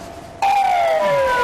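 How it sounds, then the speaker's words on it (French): Ambulance siren with its flashing beacon switched on, starting abruptly as a loud, close wail with a steady falling tone, heard alone with no voices. "Derrière cette ambulance avec gyrophare activé, il y a sans nul doute une urgence médicale vitale."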